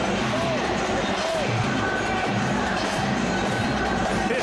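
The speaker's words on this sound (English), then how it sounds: "This crowd has turned this into a party." Boxing arena crowd at a women's title fight roaring and cheering continuously, a dense loud wash of voices with commentators talking over it.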